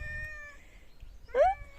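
A single rising cat meow near the end, fairly close and clear, following a quiet stretch with a faint whistling tone.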